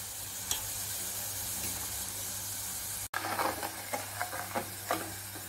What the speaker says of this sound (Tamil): அந்த சடசடன்ற சவுண்டு கொஞ்சம் நிற்கிற வரைக்கும் கொஞ்சம் இருக்கட்டும்.